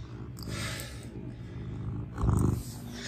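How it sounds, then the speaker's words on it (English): A contented cat purring during a bath, a low continuous rumbling purr close to the microphone, swelling louder briefly near the end with some splashing or rustling above it. "She's purring a lot right now."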